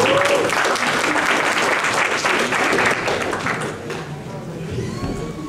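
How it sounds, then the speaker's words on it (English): An audience at a Beijing versus Rollins College debate applauds for a speaker, dense sustained clapping near and loud that gradually thins and fades toward the end. "Give him a round of applause."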